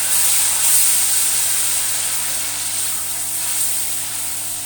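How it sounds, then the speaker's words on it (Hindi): Onion frying in hot oil in a pan, a loud, even sizzling hiss that runs continuously and close by with no voices. "थोड़ी देर के लिए भूनेंगे जब तक ये प्याज का थोड़ा सा कलर जो है ये बदल ना जाए।"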